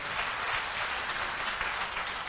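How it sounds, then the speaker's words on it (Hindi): Loud, sustained applause from an audience honouring a mentor at a motivational talk, dense clapping filling the whole stretch without pause and with no voices over it. "एक बार जोरदार तालियां ऐसे ग्रेट मेंटर के लिए"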